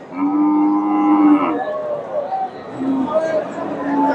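A local desi cow at a cattle market gives a long, loud moo nearby, followed by shorter lower lows, while people chatter and talk around it.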